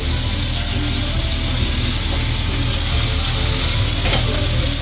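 Horsehead fish (tilefish) fries in oil in a pan over high heat, giving a loud, continuous sizzle and crackle that runs unbroken from start to finish with no talking.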